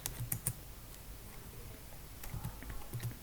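Light keyboard typing into an Excel spreadsheet, a few quick clustered key clicks in short bursts with pauses between, quiet and close against a faint room hiss.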